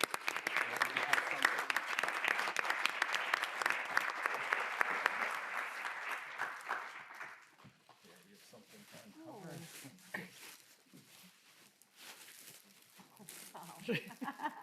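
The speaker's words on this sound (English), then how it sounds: "Let's give them a big round of applause." An audience at a school board of education meeting claps loudly for about seven seconds, then the applause fades and speech and room noise take over.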